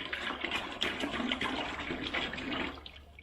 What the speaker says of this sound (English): 1 pound mixes with 1 gallon of water.